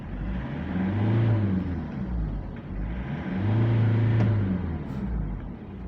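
Ford Everest 3.5 engine revving in two rising surges, each climbing in pitch and easing back to idle, close and fairly loud with no talking.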